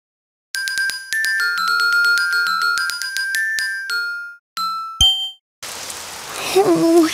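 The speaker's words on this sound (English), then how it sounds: "Oh, it's raining outside." A run of bright chiming tones gives way to a steady patter of rain in a children's cartoon, with a voice briefly heard over it.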